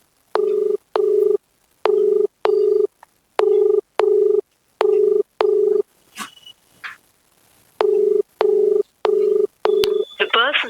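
A phone call to a number rings out as a loud, regular ringback tone in paired buzzing bursts, broken midway by brief faint rustling and handling sounds before the pattern resumes.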